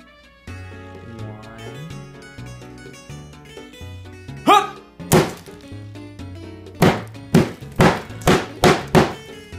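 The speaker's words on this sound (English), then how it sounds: "We're gonna smash these taco bowls with a hammer." A hammer smashes hard taco bowl shells, a regular household hammer rather than a sledgehammer, landing as a run of loud, sharp thwacks that come faster toward the end, over a steady bed of background music.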